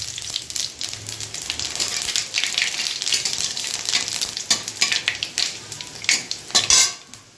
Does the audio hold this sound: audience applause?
no